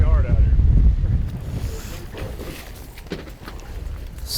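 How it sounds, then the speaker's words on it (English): Strong storm wind blowing over a small river from a boat, heavy low rumbling gusts buffeting the microphone, loudest at first and easing to a steadier roar, with someone speaking briefly. "It's blowing pretty hard out here."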